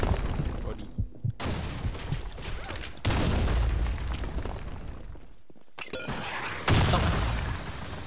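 Grenade blast in the video game Blackshot amid competitive gunfire, loud bursts separated by brief silences, with a voice talking over the action.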